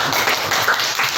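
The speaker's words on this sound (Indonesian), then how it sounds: "Terima kasih, tepuk tangan semuanya." An audience in a classroom-style gathering claps steadily and fairly loudly, a dense patter of hands sustained throughout the short moment with no voices over it.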